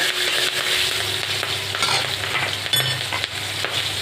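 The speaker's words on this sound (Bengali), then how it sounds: "ফোড়নে কালো জিরেটা ফোড়ন দেওয়ার পরে দিয়ে দেবো এই কাঁচা লঙ্কাটা চিড়ে রাখা কাঁচা লঙ্কাটা একটু নেড়ে চেড়ে নিয়ে" Slit green chillies stir-fried with nigella seeds in hot oil, a steady close crackling sizzle with scraping stirs and occasional spoon clinks against the pan.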